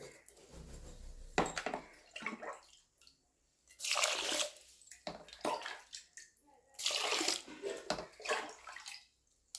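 New rice being washed by hand in a bowl of water, with bursts of sloshing, swishing and dripping separated by short quiet pauses, close and moderately loud.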